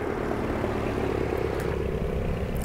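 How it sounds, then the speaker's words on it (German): A steady, even engine drone of an airplane flying over a farm map in Farming Simulator 22 fills the whole stretch, loud and unchanging, with no voices. "So, wir hören das Flugzeug wieder auf dieser Map."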